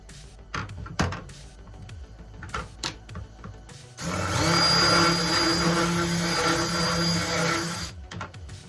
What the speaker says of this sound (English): I'm just going to do a light sanding just to clean up some of the cut marks on here